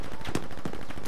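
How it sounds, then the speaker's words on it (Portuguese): Rapid machine gun fire rattles continuously in Battlefield V multiplayer, a burst of automatic shots close and loud. "É uma metranca boa aqui"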